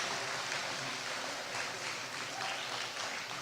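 An audience claps in broad, steady applause for Washington University at an Olympic Day event in St. Louis, a dense wash of hands filling the room evenly for a few seconds with no voices over it.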